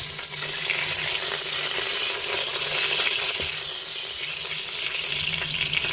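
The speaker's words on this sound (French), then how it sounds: "Quand ma matière grasse est chaude, je mets mon rôti de veau." A veal roast sears in hot fat inside a Cookeo multicooker, giving a steady, dense sizzle and crackle that runs unbroken and fairly loud throughout, with no voices.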